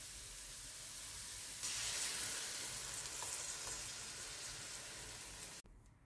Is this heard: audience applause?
no